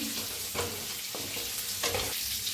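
Stuffed brinjals frying in oil: a continuous close hiss of sizzling oil with a few brief bursts of stirring or shifting in the pan, no voices.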